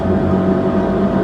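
A BMW Alpina B5 gathering speed, heard from inside as a loud, steady engine drone with a layered hum and road roar, continuous and without talk.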